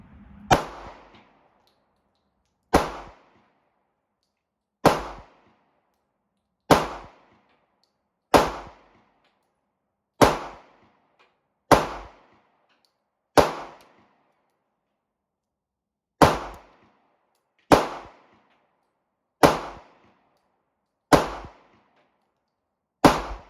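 Thirteen sharp, loud pistol shots from a Smith & Wesson SD40VE .40 S&W fire at an indoor range. They come at steady intervals of a second or two, and each crack rings briefly before fading to silence.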